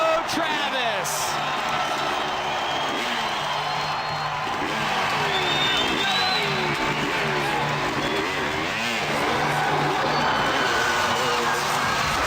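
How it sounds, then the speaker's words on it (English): A packed motorsport arena crowd stands and cheers for Travis Pastrana, a steady roar with whoops that runs the whole time under a loud, excited announcer talking over it. "everybody in this house, is now standing up and cheering on the 199"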